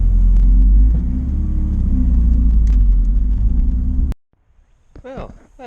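A Pontiac Fiero being driven, its engine and road rumble loud and close for about four seconds before cutting off abruptly, followed by a brief voice in the quiet cabin.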